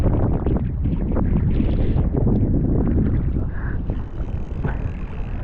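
Strong wind gusts buffet the microphone beside water in a mangrove area, a steady broadband roar with rumbling low-end buffeting that stays loud and close for the whole stretch, with no talking.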